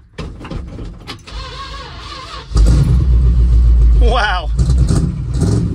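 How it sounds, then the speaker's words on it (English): An engine on a roughly 50-year-old pickup truck revs hard, a loud, deep roar that jumps up partway through and holds steady. Someone exclaims over it, and quieter vehicle sounds and talking come before it. "How about a 50-year-old pickup truck?"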